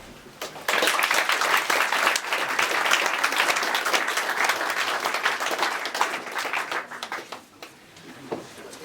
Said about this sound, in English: If you can please clap your hands